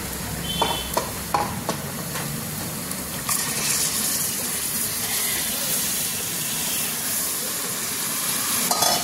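Marinated chicken tossed into onions in a pan for kharda chicken, sizzling and frying steadily while being stirred, with a few sharp clinks of the spoon early on and a continuous hiss throughout.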